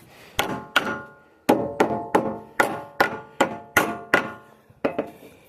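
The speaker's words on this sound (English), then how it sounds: "I could knock it in there with a hammer" Around a dozen solid hammer blows land on wood at an uneven pace, each a hollow, resonant whack heard up close with no voices.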